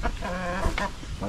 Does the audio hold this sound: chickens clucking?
yes